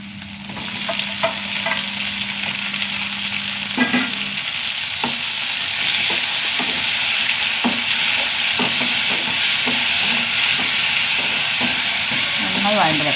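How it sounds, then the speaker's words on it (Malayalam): Two tomatoes sauté in a hot pan for a chutney, a steady loud sizzle broken by repeated clicks and scrapes of stirring. "നന്നായി വഴണ്ട് വെക്കാം."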